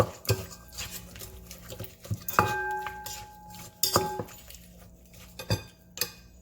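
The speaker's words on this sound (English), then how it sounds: "Just mix it up gently." Papaya crab salad tossed gently in a bowl, with soft stirring and scattered clinks of a utensil against the dish, close and fairly quiet with no talking.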